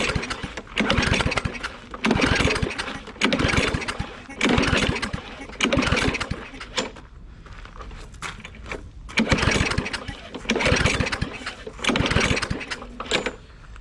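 A small Yard Machine lawn mower engine, choked and primed with starter spray, with a chunk missing from its blade, is cranked again and again, with several bursts of sputtering turnover separated by short pauses. It never settles into a steady run.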